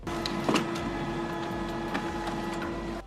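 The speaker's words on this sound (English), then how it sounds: "Here are some French vanilla lip balm labels that I'm gonna be printing off" A printer runs steadily for about three seconds, printing French vanilla lip balm labels for a small soap business, with a mechanical hum and a few clicks and feed noises before it stops.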